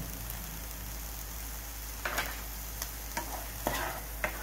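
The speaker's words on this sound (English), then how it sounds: "Mix all the spices well with the tomato puree." Spices such as Kashmiri red chili powder, turmeric, salt and hing are stirred into tomato puree in a pan for gobi masala, with a soft steady sizzle and a few light scraping clicks of the spoon, close and without talk.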